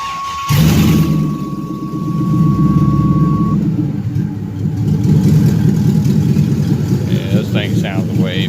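A 5.3 LS V8 swapped into a G-body car idles steadily after starting, a low throbbing rumble with a brief tone early on and talk over the engine near the end.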